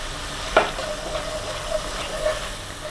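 Spices, including Kashmiri red chilli and turmeric, sauté in a pan for dum aloo, giving a soft, steady sizzle with light stirring scrapes and a brief clack early on, close and moderately quiet.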